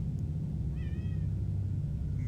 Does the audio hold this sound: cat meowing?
yes